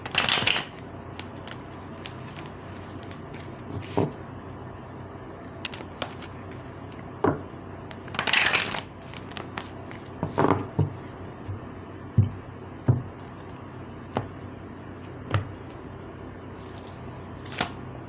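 Tarot cards shuffled by hand, a soft continuous papery riffle with sharper slaps and taps scattered through, close and quiet with no talking.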